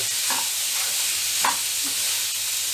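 Banana stem stir fry being mixed in a pan, a soft scraping stir with a couple of brief spoon strokes over a steady faint sizzling hiss, fairly quiet and close, no voices.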